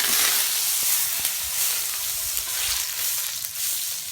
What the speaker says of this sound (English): I'm gonna throw my butter down, my garlic, my herbs and seasoning